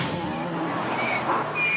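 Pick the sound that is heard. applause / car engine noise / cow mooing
car engine noise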